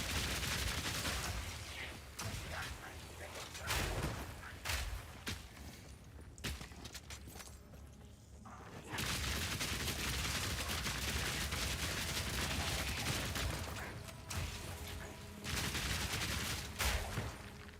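Rapid bursts of gunfire from a mercenary's weapon in the action game Path of Exile 2, dense crackling volleys repeating over most of the stretch, with a brief lull in the middle before firing resumes loudly.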